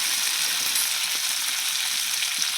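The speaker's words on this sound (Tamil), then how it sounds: "இது தக்காளி நல்லா வதக்குறோம்" Tomato sizzles steadily in hot oil in a pan as it is sautéed for drumstick sambar, a continuous close frying hiss with faint scraping and no talk.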